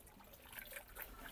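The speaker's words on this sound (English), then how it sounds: "so now let me add the water" Water poured into a seed-starting mix with perlite, a faint, brief soft trickle and wet splashing, quiet and close with no talking.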